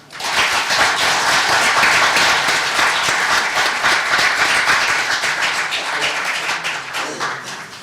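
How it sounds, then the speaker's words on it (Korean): Loud, dense applause from a crowd welcoming Seongnam Mayor Lee Jae-myung to a gathering of press figures, many hands clapping steadily for several seconds before thinning out at the end. "여러분 박수로 이재명 시장을 맞아주십시오."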